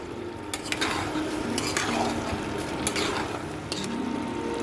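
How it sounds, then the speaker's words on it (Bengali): A spatula scrapes and clacks in a pan as a small-shrimp and Katwa stem-greens curry with five-spice tempering is stirred. The repeated metallic scrapes sit over a low, steady sizzle, close by and without talk. "ভালো করে এবার নেড়ে নেবো আমি"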